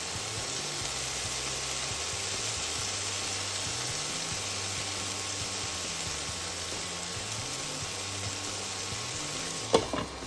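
Chicken leg pieces fry steadily with a roasted spice mix, a continuous broadband sizzle alongside a low repeating mechanical hum, ending with a brief sharp knock near the close.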